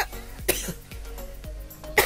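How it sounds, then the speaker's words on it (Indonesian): Two sharp coughs about a second and a half apart, close and fairly loud, with quiet background hum in between. "udah terbatuk-batuk"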